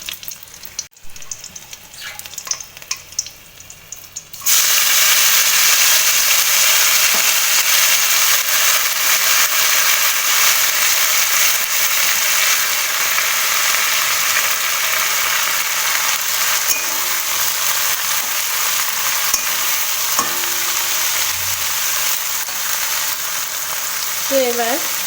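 Green chilies and water spinach (kolmi shak) frying in a pan: after a few quiet seconds of faint clatter, a loud, continuous close sizzle takes over and runs steadily to the end, with occasional light stirring.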